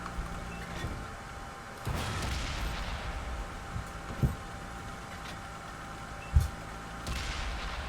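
Tank cannon fire in the World of Tanks video game, a few dull booms spaced apart over a low rumbling engine drone, moderately distant and with no talk.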